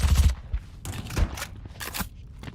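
Judge shotgun blasts in Valorant during a competitive esports match, several sharp, close bursts spaced unevenly across a couple of seconds, with scuffling and game effects between them.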